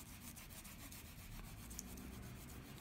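A leather edge being burnished by hand with a piece of canvas or cloth while the finish is half dry, giving a steady continuous rubbing hiss with no pauses, close and fairly quiet, with no talking.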